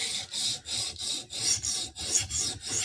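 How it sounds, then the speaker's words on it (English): Steady back-and-forth rasping of a Spyderco knife blade being resharpened on an abrasive, about eight even strokes in a regular rhythm, close and fairly loud with no voices. "This is the advantage of resharpening a knife that's been already profiled, is it's pretty easy to create a burr."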